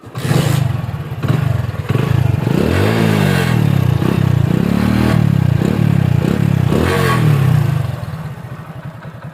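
A nearby Honda CD Deluxe motorcycle with a stock silencer idles and revs several times, with rising and falling pitch, a moderately loud, ordinary exhaust note and no talking.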